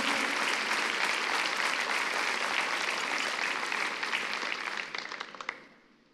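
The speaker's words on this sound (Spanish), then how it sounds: "Vamos, den un fuerte aplauso al Señor." Church congregation clapping for the Lord after a scripture reading, a dense steady wash of applause from many hands that holds strong for about five seconds, then thins out and fades away.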